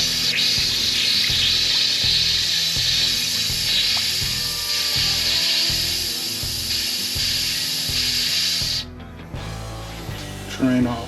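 Water drains from a hot water heater during sprinkler winterizing, a steady rushing hiss under rhythmic mechanical clanking that cuts off near the end, followed by a few knocks and handling noises.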